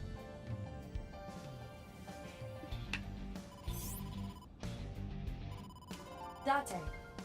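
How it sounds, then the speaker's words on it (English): A phone ringtone signals an incoming call in the video game AI: The Somnium Files, a repeating electronic ring playing steadily for several seconds under music and game sounds. "incoming call from the boss"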